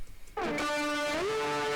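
Distorted tone from a Waves Abbey Road REDD console plugin, placed at the end of the chain with some high end rolled off: a sustained, harmonically rich note swells in suddenly, holds steady and then slides up near the end, heard alone.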